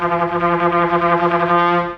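Trombone playing in its low register with too much tongue movement interrupting the airflow, giving a sustained buzzy low tone that wobbles and pulses unevenly for about two seconds before cutting off.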